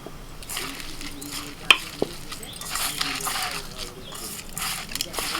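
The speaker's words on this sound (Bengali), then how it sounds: "এবার ভালো করে হাত দিয়ে চেপে চেপে মেখে নেব।" Banana flower filling with mustard-poppy seed paste, turmeric, salt, coconut, sugar and mustard oil is squeezed and mixed by hand, giving soft wet squelching and rustling in uneven bursts, with a couple of sharper taps from a bowl.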